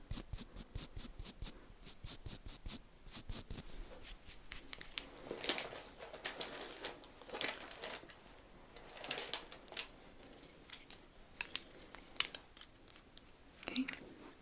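Close, quiet snips of small scissors trimming brushed-up eyebrow hairs during a brow grooming session, coming as irregular clusters of crisp clicks and cuts with soft handling noise between them.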